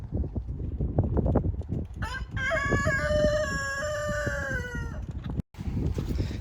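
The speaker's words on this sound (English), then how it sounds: "He just did a cock-a-doodle-doo" A rooster at a rural garage sale gives one long cock-a-doodle-doo, loud and clear over blustery wind noise that buffets the microphone before and after.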